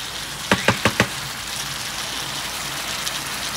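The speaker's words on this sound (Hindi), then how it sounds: "तो ये मैं मक्खन में भून रही हूँ इसको" Chicken masala for butter chicken frying in butter in a pan, giving a steady close sizzle with four quick clicks or knocks early on and no talking.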